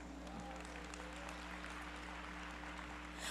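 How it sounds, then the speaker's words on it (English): An audience claps along at a team-building talk. The applause is a soft, even patter that stays faint throughout and swells slightly at the very end. "How many of you are great team players? Clap your hands."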